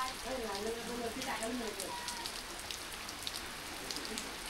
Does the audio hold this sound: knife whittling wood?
no